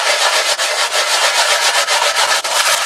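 A knife handle for an Esker skinning knife is roughed up on a sheet of sandpaper fixed to a board. It makes steady, close, continuous gritty rubbing with quick back-and-forth strokes and no voices.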